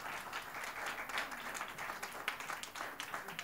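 Guests at a wedding ceremony clap together in faint, steady applause, a soft, continuous patter of many hands heard from a distance with a few sharper claps standing out.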